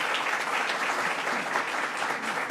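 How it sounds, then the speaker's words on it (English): An audience at a government event in Ulster gives a steady round of applause, an even, sustained patter of many hands at moderate level with no voices on top. "Let's give a round of applause to Dr. Buckley."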